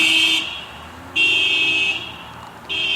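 Car alarm from a passing car, a loud high electronic tone sounding in repeated long bursts with short gaps, over faint road and engine noise.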